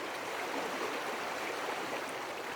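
The Snake River flows steadily with a continuous, even rush of water, soft and broadband with no voices.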